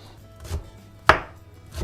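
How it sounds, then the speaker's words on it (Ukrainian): A knife chops dill on a cutting board in a few separate strokes, one sharp and loud, the others softer, spaced unevenly with quiet between. "дрібненько наріжемо укропчик"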